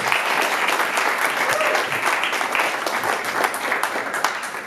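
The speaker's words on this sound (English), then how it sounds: "Can we get one big round of applause for all the candidates?" Steady, dense applause from a crowd at a student election candidates forum, sustained clapping at an even level throughout with no talking over it.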